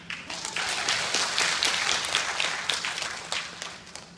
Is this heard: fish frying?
no